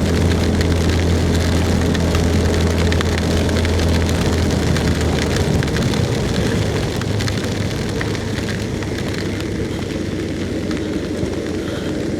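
Rain falls during a drive along a long road toward Toli-Toli, a constant hiss spread over a low steady rumble from the moving vehicle, loud and unbroken throughout.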